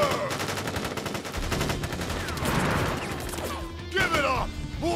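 Soldiers fire guns in a battle in the video game Crisis Core Final Fantasy VII, a dense stretch of rapid gunfire and impacts that runs throughout, with shouted voices and game music mixed in.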